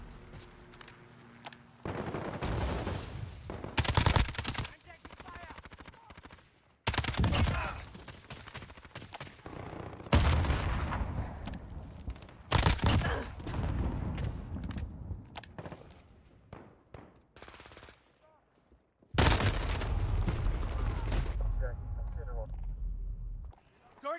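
Bursts of automatic gunfire in a 10v10 Call of Duty Modern Warfare multiplayer team deathmatch on the Striker 45 map, arriving in several loud, dense volleys separated by quieter stretches, with voices talking throughout.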